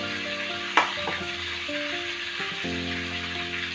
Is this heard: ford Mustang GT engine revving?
no